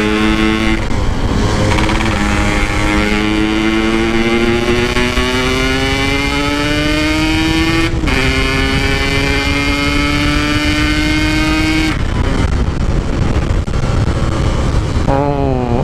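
Yamaha RX King two-stroke motorcycle revving hard in congested traffic, its engine rising and falling in pitch through repeated throttle blips, loud and close throughout with other vehicles around.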